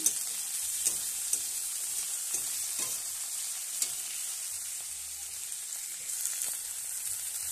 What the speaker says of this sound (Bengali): পেঁয়াজগুলো দিয়ে দিয়ে ভাজছি